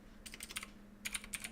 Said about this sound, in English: So I'm just typing this into an address bar.